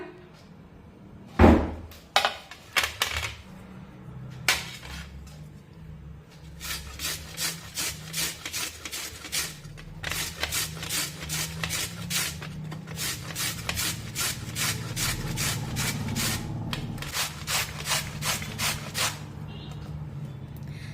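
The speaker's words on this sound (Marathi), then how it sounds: "आता हे बीट आपण किसणीने किसून घेऊया" Beetroot being grated by hand on a metal grater, a steady run of rapid rasping strokes in close bursts, with short pauses between passes.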